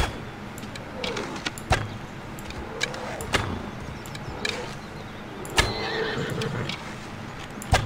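A horse neighs and whinnies in Assassin's Creed Odyssey, with sharp hoof and clatter hits scattered over game ambience and several loud whinnies rising and falling near the listener.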